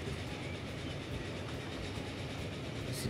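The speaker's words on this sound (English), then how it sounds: "let's take a ride on this train" A passenger train rolls along the tracks in the video game Transport Fever 2, with a steady, dense rumble and faint rhythmic clatter.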